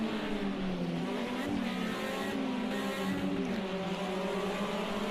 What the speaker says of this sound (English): Great throttle control there by Hamid, just playing with that rev limiter